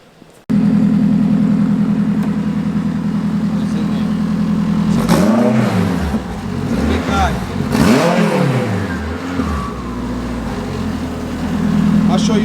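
A car engine starts up and runs loud and close, then is revved in several rising and falling surges before settling back to a steady drone.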